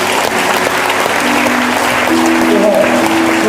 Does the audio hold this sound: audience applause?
yes